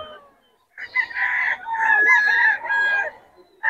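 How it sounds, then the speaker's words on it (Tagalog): A large rooster in Bocaue crows once, close and clear, in a drawn-out multi-part call that rises and falls, followed by a brief start of another call. "Ang lalaki ng manok ni Boss Batang."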